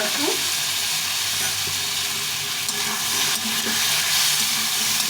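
Potato and pointed gourd fry in a pan with cumin and chilli powder, making a continuous loud hiss of oil with a few faint stirring clinks.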